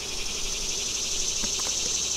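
Honeybees swarm around an opened hive, their buzz a steady, even drone that holds without a break from start to finish.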